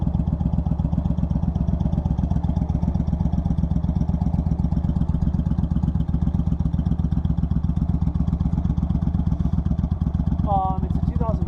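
A 2001 Suzuki Marauder motorcycle engine running with a steady, throbbing low rumble, close and loud throughout, with a voice speaking briefly near the end.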